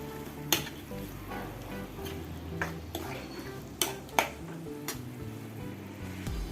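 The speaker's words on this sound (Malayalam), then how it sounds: "പുളിവെള്ളം ഒഴിച്ച് നമുക്കൊന്ന് ഇളക്കി കൊടുക്കാം" Dal curry being stirred in a pot after tamarind water is poured in, a steady sizzling simmer with a few scraping clinks of the spoon against the pan, close and moderately loud with no talking.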